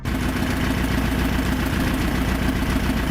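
Forgotten air-cooled V4 motorcycle engine on a test run, a steady close idle with a dense low rumble and faint mechanical knocking that holds even for three seconds, no voices.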